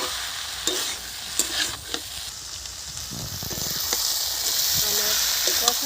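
Banana flower mixture frying and being stirred in a pan with ginger, cumin and tomato, giving a steady sizzle with scraping stir strokes and soft clatter throughout, close and moderately loud.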